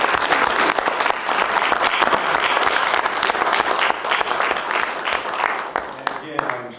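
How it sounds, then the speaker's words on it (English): Sustained applause for the governor at a Workforce Planning Council meeting led by the governor, a room of people clapping steadily and fairly loudly, tapering off near the end as someone begins to speak. "please give our governor a round of applause."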